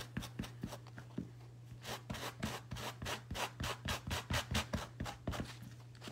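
Sandpaper rubs back and forth over the fabric edge of a pumpkin pillow to fray it, a steady run of quick, close scratchy strokes with no talking.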